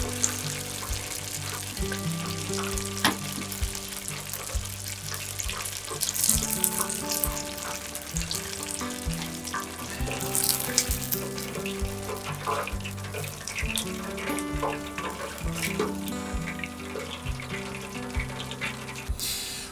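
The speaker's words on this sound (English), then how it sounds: "After all the fish has finished frying, spoon the remaining batter directly into the hot oil." Steady hissing and crackling of battered fish frying in hot oil, continuous throughout, with music playing underneath.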